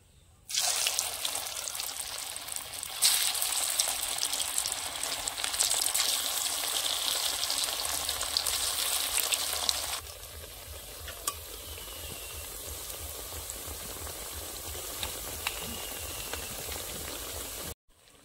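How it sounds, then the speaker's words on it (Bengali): Homemade tea-time snacks deep-frying in hot oil give a steady, dense sizzle with bubbling. It is louder for the first ten seconds, then settles into a quieter, even crackle. No one speaks. "এখন বাকিগুলো ভেজে নেব।"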